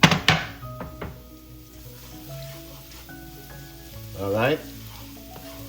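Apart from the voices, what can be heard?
garlic sauteing in olive oil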